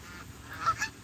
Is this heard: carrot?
no